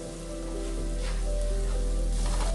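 Cauliflower roasting with salt in a hot pan, a soft continuous sizzle with faint crackle and a low steady hum beneath, close and fairly quiet, no voices.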